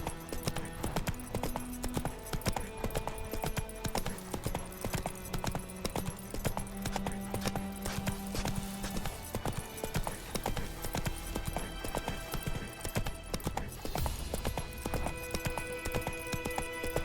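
Hooves of the horse Roach clip-clop in steady rhythm through the whole stretch in The Witcher 3, with continuous game music and ambience layered over the gait.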